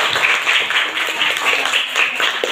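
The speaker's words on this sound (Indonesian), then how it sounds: "Tepuk tangan dulu" A classroom of students claps hands together in a quick, steady patter for a couple of seconds, loud and close, with no talking over it.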